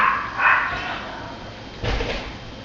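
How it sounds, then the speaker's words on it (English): A neighbors' dog barking at a distance, two muffled bursts of barks separated by a pause, faint and somewhat hollow as if heard from indoors. "Neighbors with their dog, whatever."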